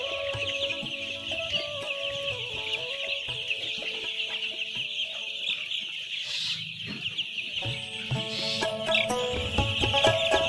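Layer chickens cluck and chatter continuously at a poultry farm shed, a dense flock of overlapping calls with no talking.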